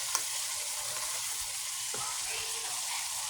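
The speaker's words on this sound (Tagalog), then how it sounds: "halo-halo ko lang siya para pantay po yung pagkaluto ng bawang natin" Garlic, onion and ginger sizzle steadily in a pan while being stirred, a continuous bright frying hiss with occasional soft scrapes of the utensil, no voices.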